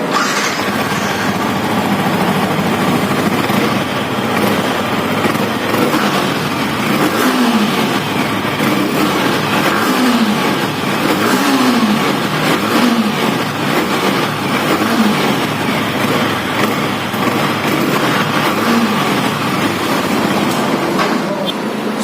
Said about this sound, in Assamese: তো মই এতিয়া শুনাই দিম আপোনালোকৰ এক্সজষ্ট নোটটো।